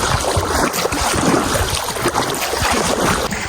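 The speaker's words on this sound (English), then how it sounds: "time for a bit of speed paddling" A small boat is paddled fast through floodwater in Thailand, giving dense, continuous splashing and water rush mixed with wind buffeting on the microphone, loud and close throughout.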